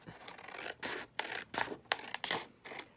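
Scissors cut through paper for a junk journal, a series of close, crisp snipping and rustling strokes in uneven bursts, with no talking.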